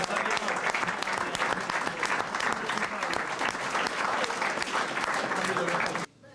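Sustained audience applause for Renato Quartucci at a basketball club's season celebration, a dense, steady wash of many hands clapping that holds evenly for about six seconds before cutting off abruptly.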